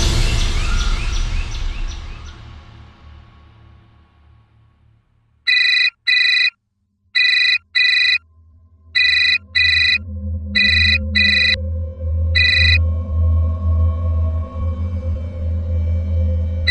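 A telephone rings in short repeated electronic bursts, loud and near, against a low hum and a fading swell of music, in a household setting.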